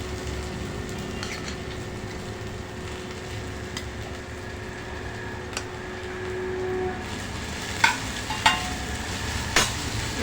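Soaked sabudana (tapioca pearls), soaked overnight, is stirred in a pan for a fasting-day dish: a steady low scraping and shuffling that runs throughout, with a few sharper clinks of the spoon near the end.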